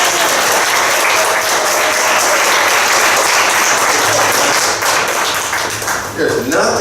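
Loud, sustained applause and clapping from an audience at a Seattle Central equity and social justice ceremony, thinning slightly toward the end as a voice begins to speak.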